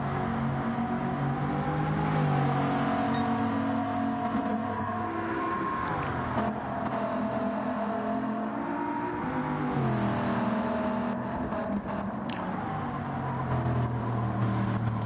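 Bugatti Group 1 race car in Gran Turismo 7 at Brands Hatch, a loud continuous engine roar close up, pitch rising and dipping with shifts and throttle lifts.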